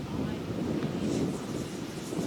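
Gusty wind buffeting the microphone at an RC flying field where an E-flite Super Timber 1.7 plane is flown, a loud continuous rushing roar that swells and dips, with no clear talk.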